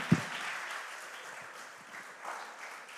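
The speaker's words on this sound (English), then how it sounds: "Can we give ourselves a resounding round of applause?" An audience at a school quiz competition between community schools gives a short round of applause, a soft, moderately distant patter of clapping that swells briefly near the end.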